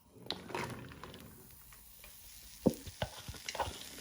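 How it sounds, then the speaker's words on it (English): Mushrooms and shallots sizzle and crackle in a pan, with scattered pops and stirring clatters, fairly quiet and close. "Now you want to start frying your mushrooms and shallots."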